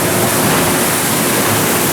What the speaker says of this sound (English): Love the waterfall over there towards the end, makes it very pretty.